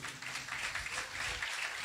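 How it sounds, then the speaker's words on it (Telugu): A congregation at a Sunday church service in Goa claps loudly together, a dense, steady wash of hand claps that fills the room without pause and with no voices on top. "అందరూ చప్పట్లు కొట్టండి గట్టిగా."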